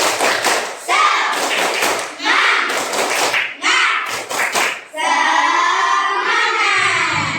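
A school class does a rhythmic spirit clap, bursts of loud patterned claps and thumps with pauses between groups, children's voices calling along, ending in a sustained loud cheer.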